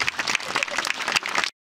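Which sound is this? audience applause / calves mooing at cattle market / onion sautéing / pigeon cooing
audience applause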